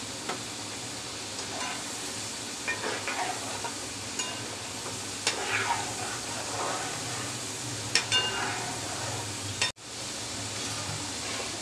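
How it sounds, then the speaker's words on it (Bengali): French fries frying in hot oil in a wok, a steady close sizzle with occasional stirring scrapes and clinks, running on without talk. "এবার আমি ফ্রেঞ্চ ফ্রাইগুলো ভেজে নিব।"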